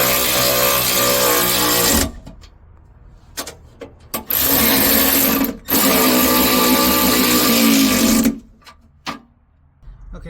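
A 1/2 inch power tool drives bolts on an under-seat storage unit in a RAM TRX, giving loud, close whirring bursts of a few seconds each, split by short pauses and brief blips.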